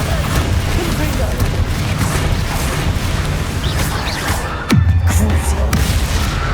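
Confringo and Bombarda spell blasts in the video game Hogwarts Legacy, a continuous roar of booming impacts followed by a sharp descending whoosh and one heavier blast near the end.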